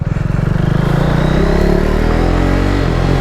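A KTM RC390 motorcycle fitted with a Yoshimura Alpha-T slip-on exhaust revs hard and close, a loud, throaty, sustained engine roar that holds steady for a few seconds.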